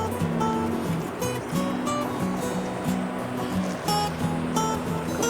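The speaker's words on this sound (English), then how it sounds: "It's kind of a cliff right here. And here's the river." A river flows below a cliff, a continuous rushing wash of water heard nearby and fairly steady, with no voices over it.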